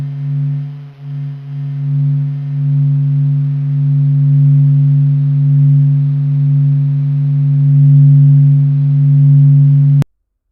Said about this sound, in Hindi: सभी रेडियो इमिशंस को साउंड वेव्स में बदलकर सूरज की